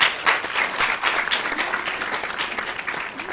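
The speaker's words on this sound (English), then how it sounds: "Can you give them a round of applause" An audience at a school quiz competition applauds the teams after a fast round, a dense, steady wash of many hands clapping, loud at first and continuing evenly throughout with no voices.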